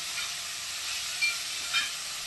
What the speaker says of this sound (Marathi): आपल्याला चांगला गॅस फास्ट ठेवून परतून घ्यायचे